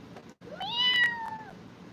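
A cat gives a single clear, rising-then-falling meow lasting about a second, close and fairly loud over a low background hum.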